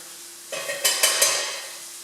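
Garlic and mince in a saucepan being stirred, a quiet hiss that rises into several quick scraping strokes and sizzling bursts, then settles back to a low simmer.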